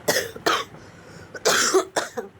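Someone with a heavy cold and fever coughs in a kitchen, four harsh, close, loud coughs in quick succession with brief pauses between.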